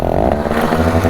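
A motorcycle throttle revs hard during a stunt wheelie, a loud, close, steady engine drone with rich harmonics that swells slightly as the rider holds the power on.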